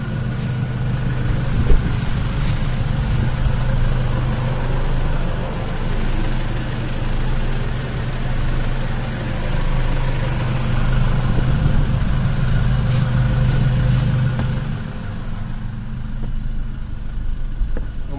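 Toyota 2KD common-rail diesel engine in an Innova running at idle, a steady low rumbling drone with even mechanical clatter, close and fairly loud, holding constant with only slight swells over many seconds.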